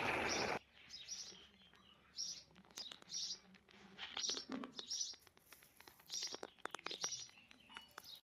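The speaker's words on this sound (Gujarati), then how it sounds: "ચકલા બોલે છે ક્યાં ગોતે છે" Repeated bright chirps of sparrows in short bursts, fairly close, with quiet gaps between calls and a brief louder noise at the start.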